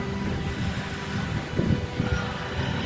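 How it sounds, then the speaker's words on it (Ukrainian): Gusty wind on a river buffets the microphone outdoors, a rumbling rush with a few stronger blasts near the end. "вітер на річці, але це нічого"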